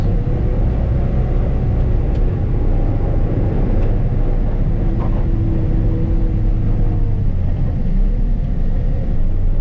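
A skid steer plowing snow, a loud continuous diesel drone and low rumble with shifting tones as it works, a few faint clicks and no voices.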